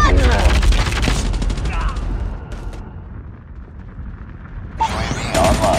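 Rapid automatic gunfire and explosive bursts in the mobile shooter Call of Duty Mobile, loud dense volleys at the start, a quieter lull, then firing resumes, with game voice callouts heard.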